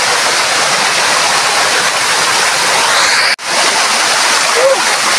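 A mountain waterfall roars steadily at close range, a dense unbroken rush of falling water with a momentary dropout partway through, and voices may be faintly mixed in.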